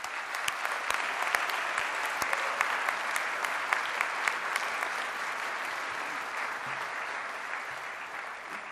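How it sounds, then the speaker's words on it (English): A graduation audience in a university hall gives a sustained round of applause for their supporters, dense and steady clapping from many hands, with sharp individual claps standing out over a continuous roar. "why don't we give them a well-deserved round of applause"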